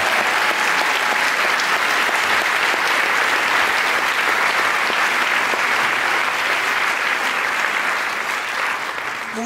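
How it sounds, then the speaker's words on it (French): Warm, sustained applause fills the hall at the Directors' Fortnight closing ceremony in Cannes, a thick steady wash of many hands clapping for over nine seconds, loud and even throughout. "Nous pouvons les applaudir chaleureusement."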